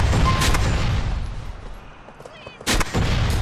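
Gunfire in the video game GTA 4 during a multiplayer match: loud, close bursts of shots and booming blasts packed together, with a couple of sharp cracks standing out near the start and the end.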